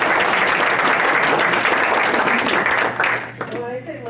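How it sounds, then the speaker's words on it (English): An audience at a talk on Montana earthquakes applauds for a lifetime distinguished researcher, a dense, steady clapping that fills the room for about three seconds and then thins out as a voice begins speaking. "You may clap."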